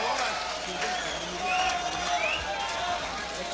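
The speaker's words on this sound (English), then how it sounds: "listen to the response from the crowd" A crowd at a Muay Thai event in Anaheim, California responds to a ring girl's entrance with a steady, fairly distant roar and scattered rising whistles throughout.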